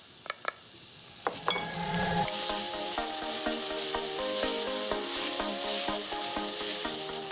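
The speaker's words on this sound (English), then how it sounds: "I'm gonna let my onions and my garlic saute for a little bit" Onions and garlic sautéing in a pan for lentil soup, a steady soft sizzle and hiss throughout, with a few sharp stirring scrapes and taps at the start, close and alone.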